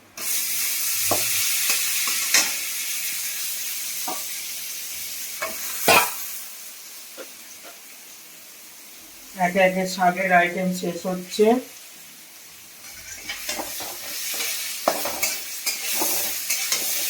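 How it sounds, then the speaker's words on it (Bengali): Green banana fries with bay leaf, dried red chillies and green chilli in a pan, keeping a steady close sizzle with occasional stirring scrapes, while someone speaks briefly partway through. "তেজপাতা, শুকনো লঙ্কা, কাঁচা লঙ্কা দিয়ে আমি একটু কাঁচকলাটা ভেজে নিই"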